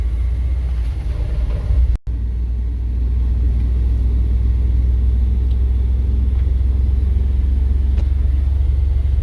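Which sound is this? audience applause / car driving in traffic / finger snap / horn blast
car driving in traffic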